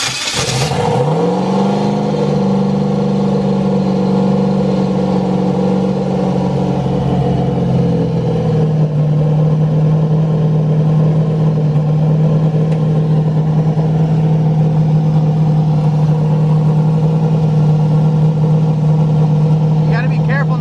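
A turbocharged LS-swapped Mustang running Holley EFI with no idle air control valve roars loudly right up close, first climbing in revs, then holding a steady, droning idle under nearby talk.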